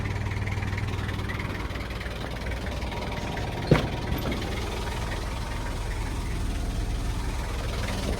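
Small Honda Acty engine idling right after starting, a low, steady, fairly quiet rumble, with one sharp click partway through.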